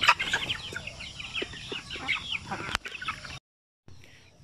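Asil chickens on a farm's free-range area cluck and chatter in quick, overlapping calls, fairly close and lively, before the sound cuts off briefly and resumes.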